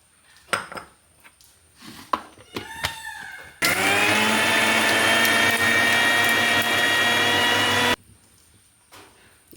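A mixer grinder grinding coconut roars loudly and evenly for about four seconds, preceded by scattered clinks and knocks of handling the jar and followed by a sudden cutoff.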